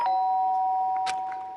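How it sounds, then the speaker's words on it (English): A doorbell rings in the video game Danganronpa: Trigger-happy Havoc, a clear sustained electronic chime with a brief second tone, heard alone and fading at the end. "The sharp sound of the doorbell pierced my sleepy haze and pulled me back to the real world."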